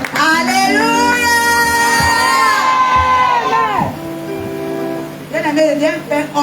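A church congregation cheers and shouts in acclaim, a loud crowd roar with whoops that builds, fades and then rises again, mixed with an amplified voice.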